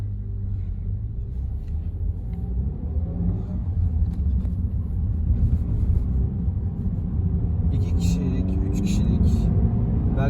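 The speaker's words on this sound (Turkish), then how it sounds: "Bakın gayet güzel hızlanıyor yani." A Toyota Auris 1.33 Life car accelerates on the road, heard from inside as a steady low engine and road rumble that swells gradually, with faint higher noises near the end.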